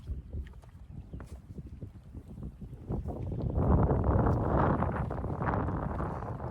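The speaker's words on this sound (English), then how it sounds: "Very windy" Gusty wind buffets and roars by the water on the Branford Trolley Trail, quieter at first then building into a strong, sustained rush.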